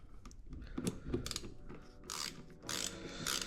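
A ratchet wrench with a 7mm socket loosens a bolt on a Nissan 350z, giving quiet bursts of rapid clicking pawl ticks in several short runs, close and without speech.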